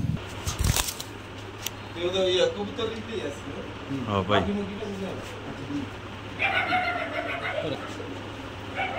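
A male pigeon coos in soft, repeated throaty bursts among other pigeons, close by and under ongoing conversation and rustling.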